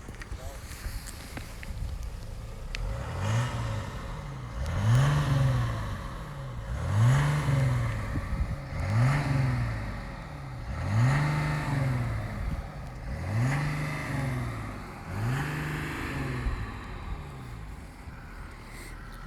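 Mercedes E350d 4Matic diesel blipped repeatedly, about seven even rev surges rising and falling in a steady rhythm, heard from nearby with voices talking over the engine.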